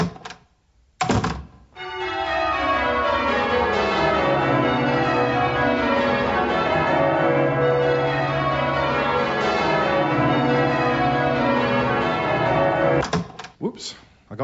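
Several bells ring together in a shop, a dense sustained peal of overlapping tones that rises after a couple of soft thuds, holds loudly, then breaks off near the end.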